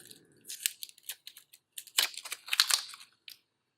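Crinkly plastic wrapper being peeled off a vape battery, a close, quiet series of irregular crackles and tearing snaps with short pauses between them.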